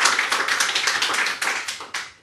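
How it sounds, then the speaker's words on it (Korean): A church congregation claps in thanks during a worship service: loud, close, rhythmic unison clapping in even beats that slows slightly and then stops. "우리 하나님께 감사의 박수 올려드립시다."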